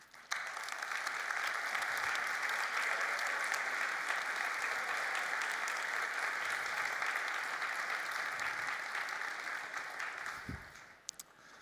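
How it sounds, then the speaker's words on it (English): Sustained audience applause at a software conference keynote, dense and steady for about ten seconds before tapering off, heard alone without talk. "let's give them a round of applause"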